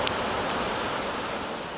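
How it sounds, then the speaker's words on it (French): Powerful ocean waves crash in a loud, continuous roar of surf, with a wind-like rush and no voices. "En voyant des vagues aussi puissantes"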